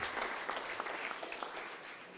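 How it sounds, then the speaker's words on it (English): Applause at an industry luncheon for the Ariane Group teams in France and Germany: a moderate, even patter of many hands, faint and somewhat distant, with no talking over it. "I would like you to applaud them."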